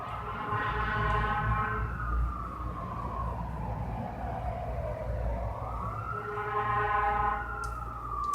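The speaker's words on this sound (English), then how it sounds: "Hear that siren?" A wailing emergency siren sweeps slowly down and back up in pitch over a steady low traffic rumble, loud and continuous throughout.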